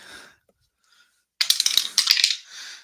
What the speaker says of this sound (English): And we drop the dice right away.